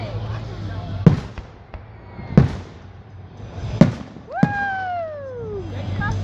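Fireworks burst overhead at a nighttime display: four sharp, loud booming cracks come at roughly even intervals, each trailing off in crackle, with a rising whistling tone near the end and people talking in the background.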